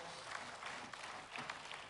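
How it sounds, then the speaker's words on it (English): Crowd at a wool handling competition at the Golden Shears claps in a sustained, fairly faint wash of applause with a few louder bursts, heard at a distance in a large hall. "I want to hear a big round of applause for the big man from Austria"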